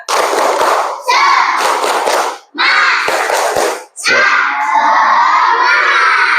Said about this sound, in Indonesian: Yo, 1, 2, 3, tepuk semangat.